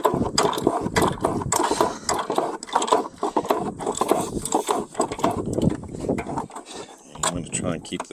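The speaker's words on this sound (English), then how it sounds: "so to remove these bolts, it's an 18mm socket." Ratchet wrench with an 18mm socket loosening bumper bolts on a car, giving rapid repeated clicks and metallic clatter close by, mixed with speech and handling noise throughout.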